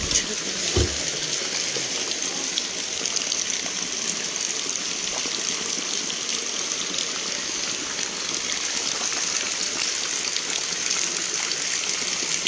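Steady rain pours down outdoors in a continuous hissing wash of water that holds level throughout, with no clear voices.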